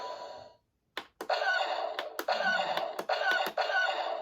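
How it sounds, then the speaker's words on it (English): Star Wars Micro Galaxy Squadron Phantom 2 toy firing its electronic blaster effect, a sustained buzzing tone broken by a rapid run of sharp clicks and bursts, loud and close with no talk. "So that's the sound of the Phantom 2 shooting."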